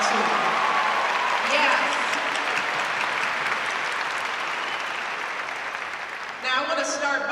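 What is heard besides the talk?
audience applause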